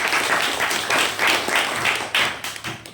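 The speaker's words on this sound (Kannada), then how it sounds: "ಎರಡನೇ ಸುತ್ತಿಗೆ ಚಪ್ಪಾಳೆ ತಟ್ಟೋದ್ರ ಮೂಲಕ ಸ್ವಾಗತ ಅವರಿಗೆ ಚಪ್ಪಾಳೆ" An audience claps to welcome teams into the second round of a quiz competition, a loud, close burst of many hands clapping in uneven waves that lasts a few seconds.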